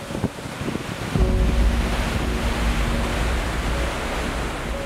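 Sea waves rushing around a ship moving fast at night, a loud continuous wash of water with a low engine rumble and a faint steady hum beneath.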